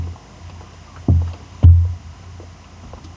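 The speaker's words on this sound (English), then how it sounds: "The boat itself has those kind of like crackly movement, very wooden, very organic feeling, like sound to everything" Low wooden creaks and thuds from a wooden boat moving on the water, two distinct groaning bursts over a quiet background.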